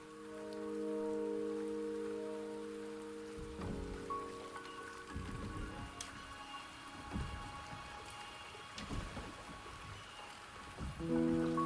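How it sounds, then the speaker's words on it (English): Steady rain pours in the Wuthering Waves video game, a dense, continuous hiss with a low rumble of thunder that swells and fades. No one talks over it. "The rain is subsiding, and the sky will soon clear."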